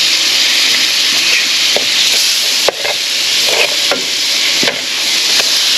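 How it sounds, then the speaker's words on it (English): Carrots, onions and celery sauté in a pan of melted butter, giving a loud, steady sizzle and hiss with occasional scrapes and knocks from stirring. "we're going to put a stick of butter in. And we're going to saute up our carrots"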